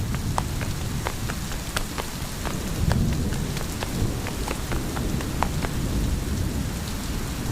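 Steady heavy rain falls on a surface at night, a dense hiss with scattered close drops and a low rumble of thunder underneath.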